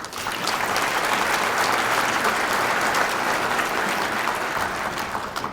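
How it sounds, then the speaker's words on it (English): A luncheon audience at a chamber of commerce community event applauds its three speakers, dense sustained clapping from many hands that fills the room at steady volume for several seconds. "Let's give another round of applause for all three of our speakers today."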